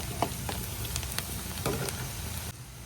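Onions sizzle and fry in a pan while being browned for crab masala, a steady close crackle with a few sharper stirring scrapes, quieting slightly near the end; no talking.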